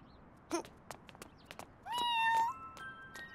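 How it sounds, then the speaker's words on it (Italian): An abandoned kitten meows on a street in an animated road-safety cartoon: a few short faint cries, then one longer, rising meow near the end, with light background clicks and no voices. "Oh? Un gattino!"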